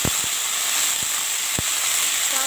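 Potato, eggplant and bitter gourd sizzle steadily in a hot frying pan, a continuous hiss broken by a few low knocks of utensil against pan.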